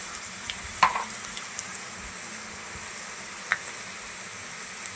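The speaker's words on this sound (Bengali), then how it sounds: "আমার তেলটা গরম হয়ে গেছে। দিয়ে দিচ্ছি পেঁয়াজ কাটিয়ে দিচ্ছি।" Onions frying in hot oil for a breakfast papaya stir-fry, a soft, steady sizzle with a few sharper pops, close by and with no talking.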